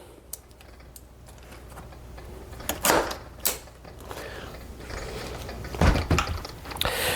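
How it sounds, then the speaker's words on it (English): Plastic parts of a DeWalt DCST925M1 13-inch line trimmer clicking and snapping together, with several sharp close clacks and handling rattles over a quiet background. "these two pieces just snap together"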